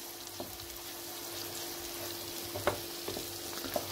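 Chopped tomatoes sizzle steadily in a pan, with a few soft scraping knocks from stirring.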